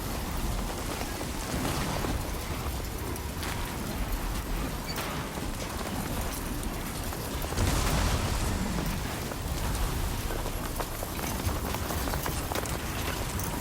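Heavy storm rain in the video game Death Stranding 2, set in Mexico, pouring steadily as a dense, loud wash with gusting wind surges and a heavier burst near the middle, no talking.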